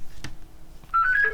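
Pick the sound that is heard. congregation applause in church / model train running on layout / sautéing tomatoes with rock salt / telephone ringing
telephone ringing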